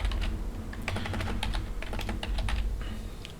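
Fingers type on a computer keyboard at a brisk, uneven pace, a close run of light clicking keystrokes over a low steady hum, with no speech.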